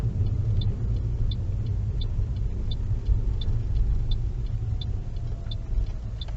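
A car pulls up on the left side of a road in Harehills, Leeds, during a driving lesson: a steady, close cabin engine rumble with road noise and a faint regular ticking throughout, no talk.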